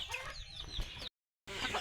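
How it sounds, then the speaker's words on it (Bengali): Chickens on a farm clucking busily as they eat morning feed, several birds close by with overlapping calls, broken by a brief gap of silence partway through. "তো দেখুন আমাদের মুরগিগুলো কিন্তু অনায়াসেই কিন্তু এই খাবারটা খাচ্ছে"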